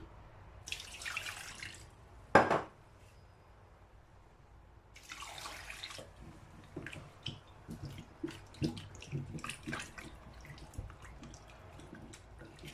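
Tap water running and splashing in a sink while cut yam is washed, heard in quiet bursts with drips, clatters and knocks of handling between them, close but fairly soft, with no talking.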